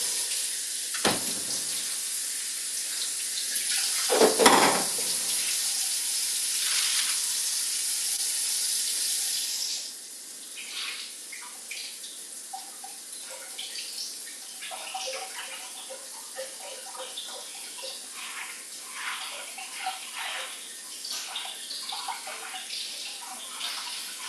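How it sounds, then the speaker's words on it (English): Running tap water splashes over spinach leaves being washed at a kitchen sink, a steady close hiss of flowing water with a few louder bursts, then gives way to softer, intermittent rinsing and handling noises. "Let me wash the spinach."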